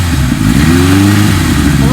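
A 1976 Kawasaki KZ900 motorcycle engine running after starting, a loud close mechanical drone with a rising tone as it revs a little, while someone talks over it.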